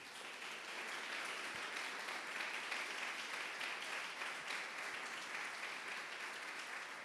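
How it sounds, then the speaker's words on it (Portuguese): A church congregation applauds during a deliverance service, steady dense clapping from many hands filling the room at a fairly even level throughout, with no speech over it. "Aplauda ao Senhor."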